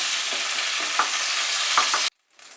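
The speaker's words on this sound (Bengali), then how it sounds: "এবারে কড়াইতে আমি 4 টেবিল স্পুন মতো তেল রেখেছি। তার মধ্যে ফোড়ন দিচ্ছি গোটা গরম মশলা।" Whole garam masala spices hit about four tablespoons of hot oil in a wok, giving a loud, steady crackling sizzle with a few sharp pops. The sizzle cuts off abruptly near the end, then a fainter hiss returns.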